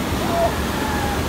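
Water pours steadily across a road fully submerged by floodwater near the Gujarat-Rajasthan border, a continuous broadband rushing close by, with faint voices in the background.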